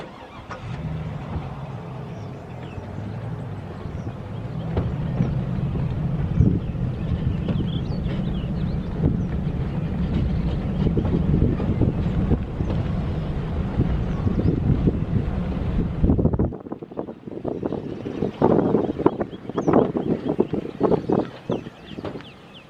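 A motorboat's engine drones steadily on a lake with wind buffeting the microphone, then the low rumble drops away, leaving choppy splashes and gusts.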